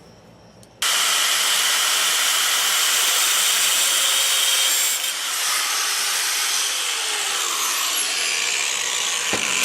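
A power tool cuts off a handbrake part on a Fox Body during a 5-lug conversion; after a quiet start it bursts into a loud, continuous high-pitched cutting whine that holds steady for the rest of the clip.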